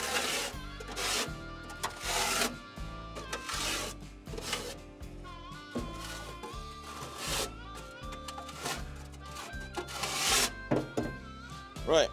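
A metal tool scrapes out a pellet grill's fire pot and auger tube in repeated harsh, raspy strokes, close and fairly loud, in an uneven rhythm over soft background music.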